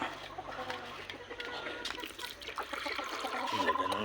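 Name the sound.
backyard chickens clucking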